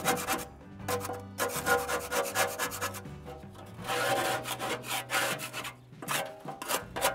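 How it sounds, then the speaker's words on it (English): A plastic putty knife scrapes grease off a Masterbuilt Gravity grill in steady, close rasping strokes with brief pauses, and no talking. "I'm going to start, no cleaner or anything, with this plastic putty knife. And I am just going to scrape as much of that off"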